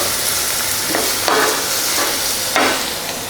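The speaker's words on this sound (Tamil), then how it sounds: "வெங்காயம் 2 நிமிஷம் வதக்கி விடலாம்" Onions sauté steadily in a hot pan over a medium flame while a utensil stirs them in a few scraping strokes, close and fairly loud.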